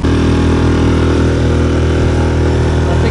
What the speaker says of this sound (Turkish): Dinginin motoru.